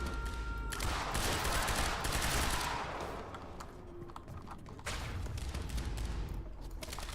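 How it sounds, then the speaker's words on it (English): Rapid bursts of automatic gunfire in the Quantum Break video game, dense fusillades crackling close and loud, pausing briefly midway before resuming. "People are shooting at me."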